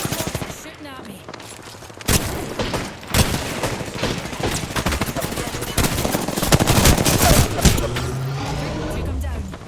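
Bursts of rapid automatic gunfire from a battle in Apex Legends, loud and close, firing in dense volleys with brief pauses, with a voice talking over parts of it.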